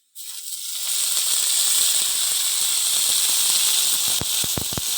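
Leafy greens dropped into a pan of frying chopped onion and garlic, bursting into a loud, steady close sizzle that holds throughout, with a few sharp crackles near the end.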